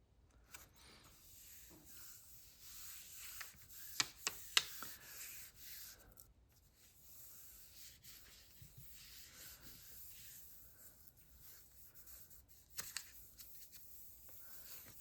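Copy paper is rubbed by hand over a painted gelli printing plate, giving a soft, steady, close rasping and brushing, with a few crisp paper crinkles.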